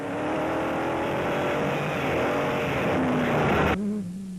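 A CPD Bat Class A rally car at racing speed, heard from inside the cabin: a loud, steady engine roar holds throughout, then drops sharply in pitch near the end as the revs fall.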